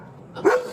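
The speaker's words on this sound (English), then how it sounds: "Oh, it's a big dog." A big dog gives a single short, loud bark close by during a roadside police stop, with a muffled background hum before it.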